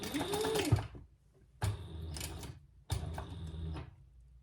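A sewing machine stitches a seam on a Magnolia wallet with coin pouch, running in three separate bursts of steady whirring with short pauses between them, close and clear.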